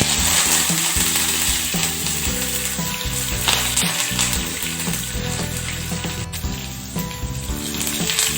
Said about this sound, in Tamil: கடுகு போட்டுட்டு இப்போ வத்தல், உளுத்தம்பருப்பு, வெங்காயம், கருவேப்பிலை எல்லாம் இதை ஆட் பண்ணலாம்